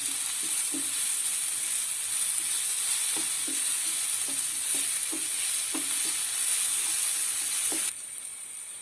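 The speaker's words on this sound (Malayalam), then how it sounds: "പച്ചമുളക് ഇടാം. ഇത് നന്നായിട്ടൊന്ന് വഴറ്റിയെടുക്കണം." Chopped green chillies sautéing in a pan with masala, a constant bright sizzle under repeated light scrapes of a spoon stirring, close up, with the hiss dropping away near the end.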